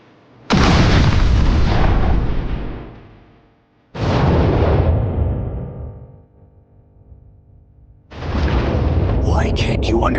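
A Plasma Cannon attack detonates in the My Hero Academia: All's Justice video game. Three huge, booming blasts each slam in abruptly and roll off into a long rumbling decay.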